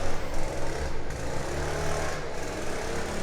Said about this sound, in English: It's probably a leaf blower